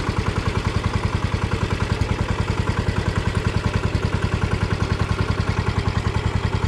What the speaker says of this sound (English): She still runs just as good as ever. Except for all the smoke. But that's because that's a tired engine right there.